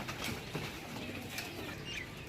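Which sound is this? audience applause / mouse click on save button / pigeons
pigeons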